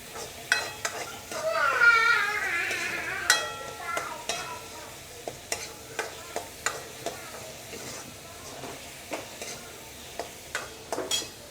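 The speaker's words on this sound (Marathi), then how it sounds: "कांदे छान परतून घेते जोपर्यंत याच्या कच्चापणा नाही जातो तोपर्यंत" Onions sauté in a pan with a soft sizzle, while a spatula scrapes and taps against the pan in irregular clicks throughout, close and moderately quiet.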